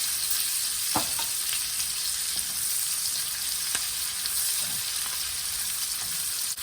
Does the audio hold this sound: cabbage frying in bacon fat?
yes